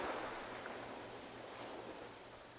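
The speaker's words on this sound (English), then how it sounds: "The waves seem so familiar, don't they?" Ocean waves wash onto a shore in a soft, continuous hiss of surf with a low rumble beneath, faint and steady, with no voices.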